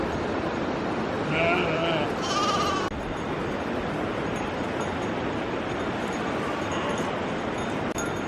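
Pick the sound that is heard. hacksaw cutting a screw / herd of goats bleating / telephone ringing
herd of goats bleating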